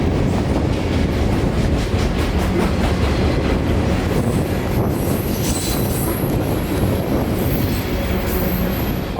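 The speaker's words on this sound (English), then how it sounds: "this southbound snuck up on us" A loaded CSX coal train led by a pair of AC4400 locomotives rolls past close by on the W&A line, loud steady wheel rumble with rhythmic clickety-clack and high squealing wheels joining partway through.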